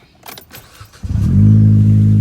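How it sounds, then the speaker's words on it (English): A Chevy Cruze engine starts with a short starter whir after faint clicks and key sounds. It catches within a second and settles into a steady, close idle hum. "you want to start the car"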